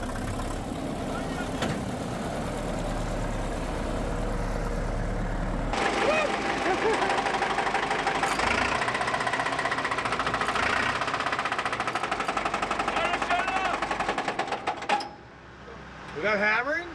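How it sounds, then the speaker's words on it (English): An old tractor engine runs roughly close by with a heavy, rhythmic knocking and hammering clatter, growing denser and louder partway through before faltering near the end, with people talking over it. "It'll just cool down and that knock will go away"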